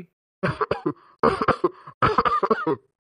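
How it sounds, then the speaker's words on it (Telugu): Several bursts of harsh coughing from a man come in three clusters, close and fairly loud, with short silent pauses between them. "ఈ దగ్గు ఇప్పుడు సెలపనిస్తలేదు, అనేకం దగ్గు వస్తుంది"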